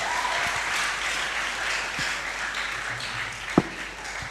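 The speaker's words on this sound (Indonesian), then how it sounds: "Mari kita beri tepuk tangan pada Yesus kita" A church congregation at GKB Namo Bintang applauds during a service, a soft, diffuse wash of clapping from many people that runs throughout, with one sharp knock near the end.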